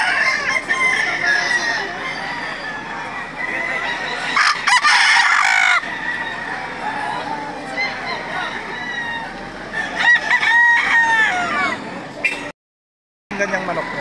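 Fighting roosters crow repeatedly amid clucking hens and other fowl, with people talking nearby at a busy outdoor gamecock market in Lipa, Batangas.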